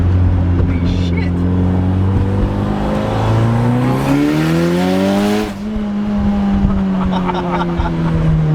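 A Mitsubishi Evo IX running on E85 accelerates at half throttle, its loud, close engine note climbing steadily through the revs before a brief dip at a gear change, then droning on.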